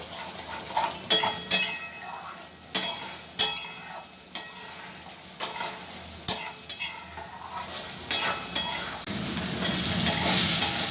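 Masala for a mushroom curry being stir-fried in a pan, with repeated sharp clanks of a metal spatula against the pan over a low sizzle, rhythmic and close, no voices.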